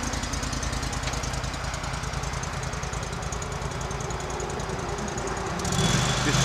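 A 2010 Terramite T5C compact diesel tractor engine runs at a steady, rattling idle, close and continuous, with the tone shifting slightly near the end.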